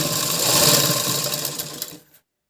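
A sewing machine runs steadily for about two seconds while stitching a blouse, its continuous whirring motor and needle chatter close and loud before stopping abruptly.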